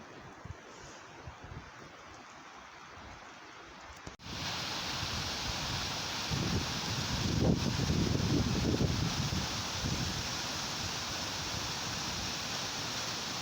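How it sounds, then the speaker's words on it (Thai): Strong wind roars steadily through a mushroom forest during a rainy, foggy storm with snow on the ground. A quieter stretch gives way to a louder, continuous rush, with gusts swelling partway through. "เสียงลม"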